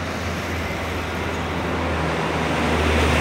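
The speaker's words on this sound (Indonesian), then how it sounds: "Ini bus lewat juga." A bus passes on a busy road among trucks and other traffic, a steady loud roar of engine and tire noise that swells slightly toward the end, with no voices.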